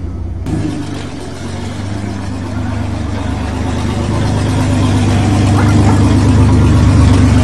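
A pickup truck in a burnout contest, either a Ford Ranger or a Dodge Dakota, gives a loud, close engine roar that swells steadily as it revs, with no clear pauses.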